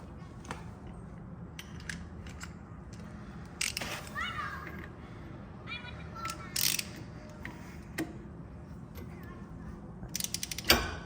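Metal ratcheting and clicking from a special tool working loose the clutch nut on a Chinese ATV, a run of light mechanical clicks and short clanks spread through the clip, with a louder clatter near the end.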